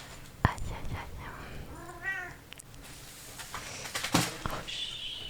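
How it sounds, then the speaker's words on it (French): A pet cat named Gaston gives a short wavering meow mid-clip, with soft whispered speech and small handling sounds around it in a quiet indoor room. "Mon chat du Gaston, arrête de faire du bruit comme ça."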